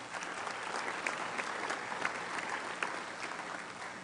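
Audience applause at a Rotary Club of Denver meeting, a dense, even clatter of many hands clapping at once, sustained and moderately loud with no voices on top.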